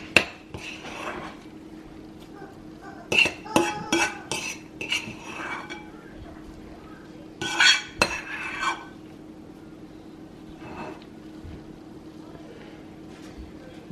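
A spoon works through a turkey casserole in a dish, producing scattered clinks and taps of metal on the dish in small clusters over a low background hum, close by and fairly quiet.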